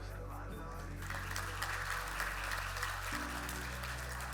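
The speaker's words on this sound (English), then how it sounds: "give yourself a round of applause" Audience at a motivational talk applauds, a dense continuous patter of clapping heard fairly faintly beneath steady low music, filling the whole span without pause.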